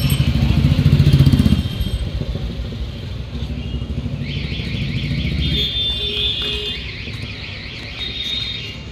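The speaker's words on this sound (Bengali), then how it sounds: "সরস্বতী ঠাকুর নিয়ে যাচ্ছে বাইকে করে।" A motorbike carrying a Saraswati idol passes on a busy street during Saraswati Puja, its engine rumble loud at first and then fading, while high, steady tonal sounds from nearby traffic and horns carry on after it.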